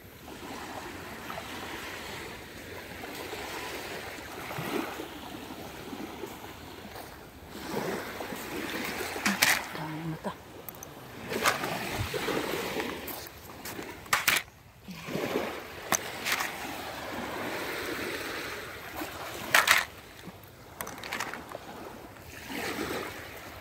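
Ocean waves and water wash and splash at sea, a continuous surging roar with irregular louder bursts and wind.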